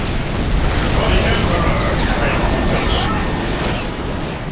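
A Dawn of War strategy battle during an assault on Eldar bases churns with constant close explosions, a thick roar of booms and bursts overlapping without pause.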